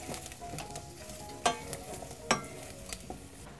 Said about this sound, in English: all of these to simmer away together. Stirring constantly so nothing burns.